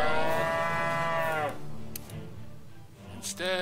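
A cow moos loudly in South Park: The Stick of Truth, one long drawn-out low call filling the first second and a half, followed by quieter game sounds and a brief higher cry near the end.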